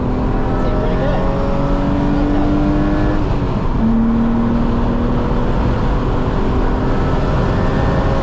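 A high-mileage BMW M3 accelerates hard down a race track straight, its engine note climbing loud and close through the gears, with an in-car voice now and then over the steady drone.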